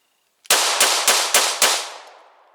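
A 9mm pistol fires five rounds during an everyday-carry shooting drill, five loud, close, evenly spaced cracks, each ringing on into the next, with the echo fading after the last shot.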